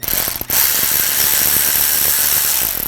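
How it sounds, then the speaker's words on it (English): A ratchet fitted with a T20 socket backs out panel screws on a 2004–2009 Audi A4, giving a close, rapid run of clicking pawl ticks after a brief pause at the start, with no talking. "Use a T20 socket."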